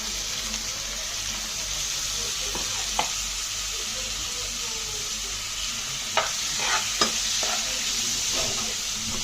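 Onion paste frying in a pan keeps up a continuous close sizzle while a utensil stirs it, with scattered scraping knocks and brief clatters through the middle and end.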